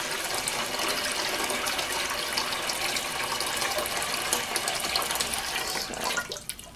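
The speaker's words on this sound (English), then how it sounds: "first you need to fill the metal trough with water" Tap water pours steadily into a metal trough being filled for a magnesium gas-collection lab, a continuous close-up rushing splash with no talk, tapering off at the end.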